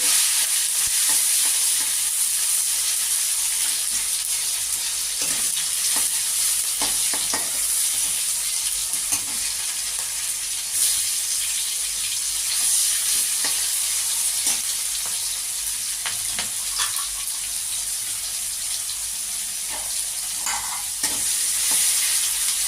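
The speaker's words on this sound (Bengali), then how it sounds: "টমেটো হালকা ভাজা হয়ে গেছে" Tomatoes and green chillies fry with garlic in a pan, a steady sizzling hiss with intermittent stirring scrapes and clicks, sustained and moderately close with no speech.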